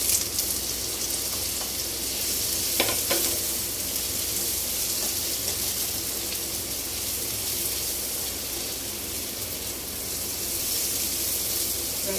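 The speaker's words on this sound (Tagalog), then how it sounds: "Fry ko muna natin ang ating hotdog." Hotdogs frying in a pan, a steady bright sizzle holding at an even level throughout, with a couple of faint clinks near the start of the cooking.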